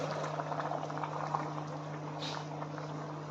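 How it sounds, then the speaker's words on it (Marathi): Hot water poured into dal for a Karnataka-style Akshaya Tritiya thali: a steady, soft liquid rush with faint bubbling over a constant low kitchen hum, close and even throughout, with no talking. "आपलं पाणी गरम झालेलं आहे. आता आपण ते डाळीमध्ये टाकून घेऊया."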